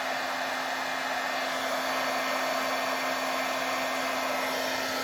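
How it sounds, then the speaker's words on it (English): An embossing heat tool blows hot air in a constant loud whooshing roar with a steady hum, running unbroken from start to finish. "I'll let my heat tool heat up for a second off to the side."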